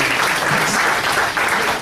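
Audience applause for two speakers at a college talk on curriculum and entrepreneurship, a dense, steady wash of many hands clapping, loud and close, carrying through the whole stretch without voices.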